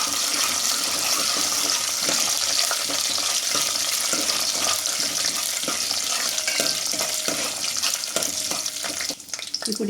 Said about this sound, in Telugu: దీన్ని బాగా కలుపుకోవాలి.